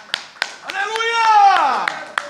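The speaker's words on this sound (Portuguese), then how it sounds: "Quem pode aplaudir a Deus comigo?" A few sharp hand claps ring out at steady intervals in a church service while a voice calls out a long, drawn-out sung word over them.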